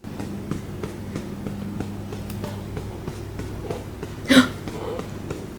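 A RealCare reborn hybrid baby doll lets out a single short, close burp near the end, rising above a steady low electronic hum.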